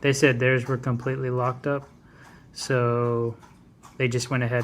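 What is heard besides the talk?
No everyday noise stands out behind the speech.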